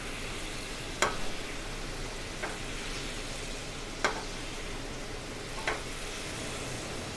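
A brown butter pan sauce for scallops reducing on the heat, a steady soft sizzle throughout with a few faint clicks of stirring, close and even.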